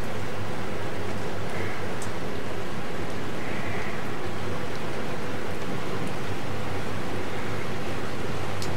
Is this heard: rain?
yes